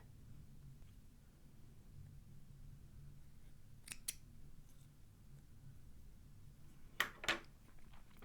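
Scissors snipping through fabric while hemming, with two quick crisp pairs of cuts a few seconds apart, faint and close over a quiet low room hum.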